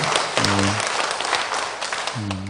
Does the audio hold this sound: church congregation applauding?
yes